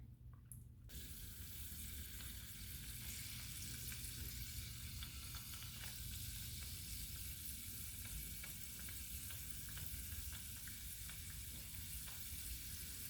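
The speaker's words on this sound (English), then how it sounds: "I just put a little piece of a wonton in here to test this, and it's sizzling, so I believe it's hot enough" Wontons frying in hot oil for vegan crab rangoon, a steady close sizzle and crackle that holds loud and even throughout after a brief quieter start, with no talking.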